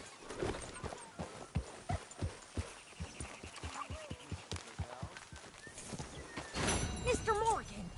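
Hooves of a horse walking in Red Dead Redemption 2, a steady rhythmic clip-clop of about a dozen evenly spaced steps, close and clear, followed by a louder burst with a whinny-like cry at the end.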